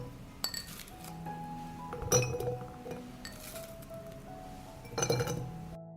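Glass jars clink as onions are dropped in during food storage prep, a few sharp chinks and ringing knocks against a quiet background, nearby and fairly faint, with no talking.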